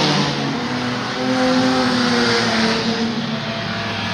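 Race car No. 282 gets going again on track, its engine droning loud and steady with rising harmonic pitch as it accelerates, no voices over it.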